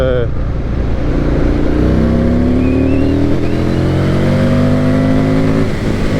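Motorcycle ride on winding country roads in Royal Deeside, with another vehicle racing past; a steady loud engine drone with rising revving tones as the passing vehicle accelerates close by, continuous throughout.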